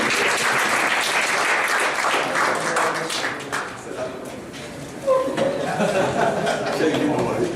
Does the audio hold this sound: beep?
no